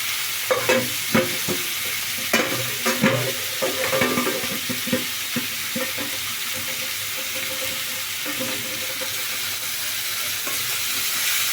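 Greens, peas and eggplant fry in a pan with a constant sizzle, broken by scraping, clattering stirring strokes up close, busier at first and settling later.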